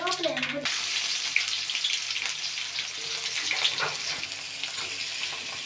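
Chana dal and mustard seeds fry in hot oil in a kadai, giving a continuous fairly loud sizzle and hiss after a brief spoken opening.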